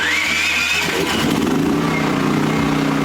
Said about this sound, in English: I hit engine start.